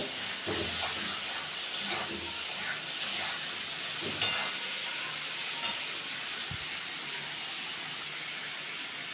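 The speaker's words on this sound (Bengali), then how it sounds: "চিংড়ি মাছটা মোটামুটি ভাজা হয়ে গেছে" Prawns frying in a pan, a soft, even hissing sizzle heard close but fairly quiet, with a few faint knocks and shifts in the oil along the way.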